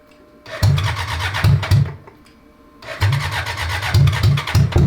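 A 1000cc engine in a trophy truck go-kart cranks and fires up twice, each attempt a loud close burst of churning, sputtering engine noise separated by a brief quiet gap.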